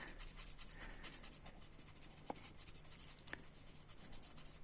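Pencil sketching a bonsai tree on paper, a close, steady scratching of graphite strokes in quick repeated back-and-forth rhythm, with a couple of brief sharper taps.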